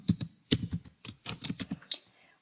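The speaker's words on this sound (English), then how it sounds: "Once you're done typing the password, you can click on sign in" A password being typed on a computer keyboard, heard as quick irregular bursts of close, crisp key clicks with short pauses between them and no voices.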